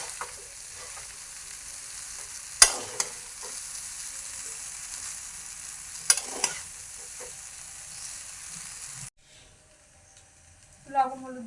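Chicken chowmein sizzles in a frying pan, with steady frying hiss and a few sharp utensil scrapes as it is stirred, then the sound cuts to near silence before a brief voice at the end.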